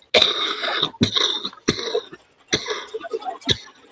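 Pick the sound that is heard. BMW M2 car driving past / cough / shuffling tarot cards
cough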